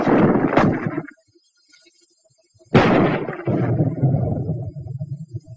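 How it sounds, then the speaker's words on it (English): Armor-piercing .30 caliber machine gun fire strikes a wall in a 1943 infantry weapons demonstration: a loud burst, a brief silence, then a second sharp onset followed by sustained rumbling impacts and debris. "At ranges up to 200 yards, armor-piercing ammunition can smash through this kind of wall any time, any day."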